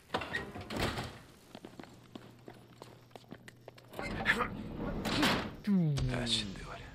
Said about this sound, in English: Now I just gotta jimmy that door.